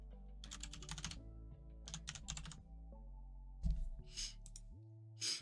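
Keys tapped on a computer keyboard in short quick bursts separated by pauses, fairly close and quiet, over a low steady background hum.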